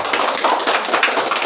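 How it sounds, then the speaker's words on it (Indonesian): A classroom of students claps together in a brief, dense round of applause, quick overlapping hand claps close by with no speech. "tepuk tangan untuk semuanya"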